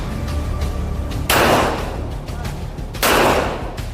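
Two loud, sharp gunshots from a gun firing full metal jacket rounds, spaced about two seconds apart, each ringing out briefly over faint background voices.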